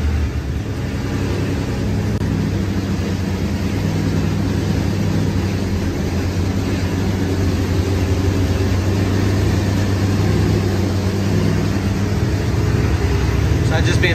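An LS V8 engine idles on a dynamometer, a steady low rumble running continuously throughout, loud and close, with a constant broadband roar above it.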